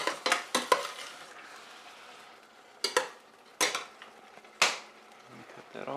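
A ladle and spoon clatter against a pot while sauce is mixed into roasted cauliflower for plant-based tikka masala, giving a few sharp metallic clinks and scrapes separated by quiet pauses.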